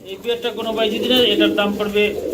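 A pair of racer pigeons coo in soft, throaty, repeated rolls close by, with voices talking over and around the calls.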